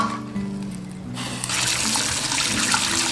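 Boiled beef is rinsed under a running tap: a low hum gives way to a bright, continuous splash of water over meat in a sink, close and fairly loud.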